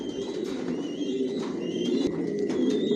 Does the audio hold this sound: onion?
no